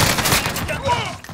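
Rapid automatic fire from a SCAR rifle in Modern Warfare, a brief dense burst of shots heard close over game ambience.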